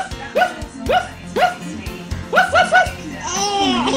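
A mother's voice imitates a dog barking in short rhythmic bursts, and a baby's giggles and laughter answer nearby.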